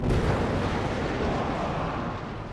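A large explosion as a fighter blows himself up against a cliff in a wasteland battle scene, a loud sustained roaring blast that fills the whole clip and slowly fades.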